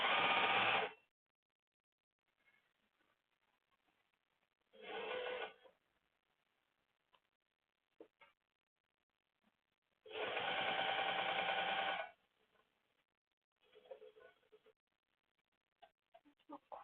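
A sewing machine back-stitching a leather tote runs in three short bursts, each a steady mechanical whir, separated by quiet gaps filled with faint clicks and handling noises.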